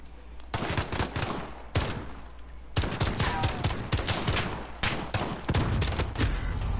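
Rapid bursts of automatic gunfire in a Call of Duty Modern Warfare match, loud and close, with dense volleys and brief pauses between strings of shots.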